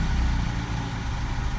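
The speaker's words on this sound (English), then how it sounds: "then I'll turn the engine on" Vauxhall Corsa D engine idling after starting, a steady low rumbling drone, close and continuous with no talk.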